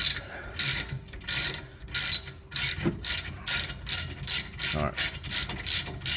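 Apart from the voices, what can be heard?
ratchet wrench cranking a bolt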